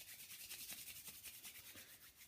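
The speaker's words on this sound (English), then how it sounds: "Can rub the hands together to create some heat." Hands rubbed briskly together during a yoga meditation, a quiet rhythmic swishing of palms with steady back-and-forth strokes, close and soft, with no speech.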